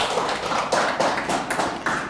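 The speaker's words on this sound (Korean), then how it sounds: "하나님께 영광의 박수로" Congregation clapping during a Wednesday church worship service in a Korean church, a steady patter of many hands with rhythmic swells, fairly loud and filling the room with no voices over it.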